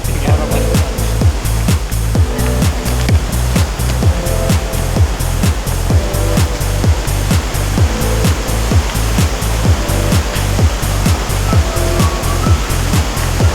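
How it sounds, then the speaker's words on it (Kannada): Kote Abbey Falls waterfall in Madikeri, Coorg, roaring in a loud, continuous broadband rush of falling water, with faint tonal sounds repeating through it. "ಈಗ ನೀವು ನೋಡ್ತಿದ್ದೀರಾ ಕೋಟೆ ಅಬ್ಬೆ ಫಾಲ್ಸ್."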